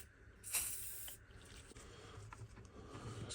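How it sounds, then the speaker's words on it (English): A short, close hiss of 3-in-1 multi-use oil sprayed from an aerosol can onto a marker pen, lasting about half a second, followed by faint rubbing and scraping sounds. "What oil should we spray on there? Multi-use 3-in-1 oil on there."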